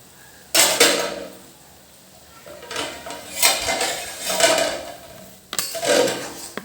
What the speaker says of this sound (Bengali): এখন কিছুক্ষণের জন্য একটু ঢাকনা দিয়ে রেখে দেবো।